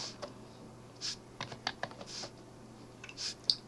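Close computer keyboard clatter as distance values are typed into AutoCAD, with irregular quick clusters of key taps and sharper spacebar presses, fairly quiet and with no talk.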